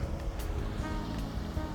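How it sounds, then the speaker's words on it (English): Meltwater rushing beneath a glacier trail during melt season on Kokanee Glacier, a steady broadband roar with a low rumbling churn, continuous and fairly close, with no voices. "there's a bunch of water moving underneath"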